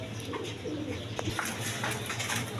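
Bashiraj pigeons at a pigeon farm cooing amid a busy, noisy background, soft repeated coos and faint chirps spread across the clip at moderate distance, no speech.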